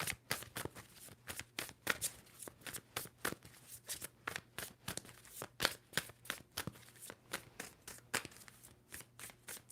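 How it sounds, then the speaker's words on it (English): Tarot cards are shuffled in quick repeated bursts of crisp riffling, close and fairly quiet, with no one speaking. "Two more shuffles for Aquarius."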